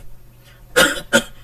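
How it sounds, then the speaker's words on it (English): Two short, sharp coughs from one person, close to the microphone, separated by a brief pause in an otherwise quiet room. "I'm coughing."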